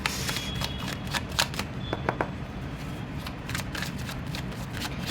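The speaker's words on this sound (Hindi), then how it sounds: "कार्ड्स थोड़े गिर गए हैं, शफल कर लेती हूँ मैं" Tarot cards shuffled by hand in a dense, continuous riffling run with quick overlapping flicks and snaps, close and steady throughout, with no voice.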